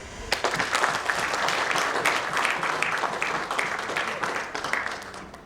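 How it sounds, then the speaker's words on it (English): Enthusiastic applause fills a hall at the Construction Times Builders Award 2017 ceremony, a dense, even clapping from a large audience that holds steady for several seconds before easing slightly. "Can we have a huge round of applause one more time for our Construction Woman of the Year, Ms. Reshma Dudani."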